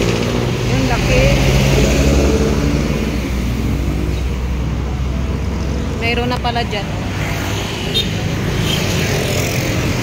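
Heavy road traffic with many vehicles passing near a bridge over a river feeding the Marikina River at San Mateo, a steady broadband roar throughout, with a person talking over it.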